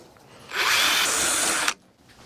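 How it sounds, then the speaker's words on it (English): A power drill bores a hole for a cargo trailer rack outdoors, one steady loud whir lasting just over a second before cutting off abruptly. "right now I'm gonna get the drill out"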